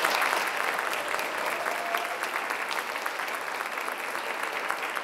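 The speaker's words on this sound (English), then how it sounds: "let's give a big round of applause to the students that organized this" Steady, dense applause from a large audience, clapping continuously at an even level throughout with no talking.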